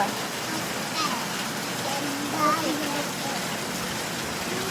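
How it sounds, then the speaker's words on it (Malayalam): Rain pours steadily, a dense, even hiss filling the whole stretch, with faint, soft tones drifting through underneath. "മഴയുണ്ട്"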